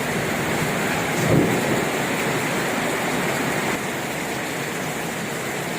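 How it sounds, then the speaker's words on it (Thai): Heavy rain pours steadily in a dense, continuous roar during a dark, stormy day in rural Thailand, with a brief low swell near the start that could be distant thunder; no one speaks. "ฝนตกดีพี่น้องทั้งบ้านนะครับตกอย่างแรง"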